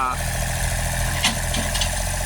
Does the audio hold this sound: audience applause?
no